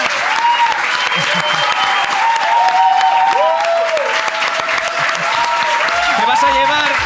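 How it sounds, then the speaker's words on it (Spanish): A crowd claps steadily for a winner at a live podcast recording, with cheering voices and talk layered over the dense applause throughout. "un aplauso para ella, la ganadora"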